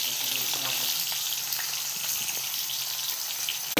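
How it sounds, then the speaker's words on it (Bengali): Boiled jackfruit pieces fry in a pan with potatoes, giving a loud, even, continuous sizzle close by that barely changes throughout. "কাঁঠালটাকে একটু সিদ্ধ করে নিয়ে একটু ভাজে নিচ্ছি।"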